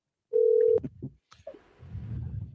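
A telephone call being placed: a short steady tone, then clicks and a brief chirp as the line connects, followed by a low murmur, with no talk.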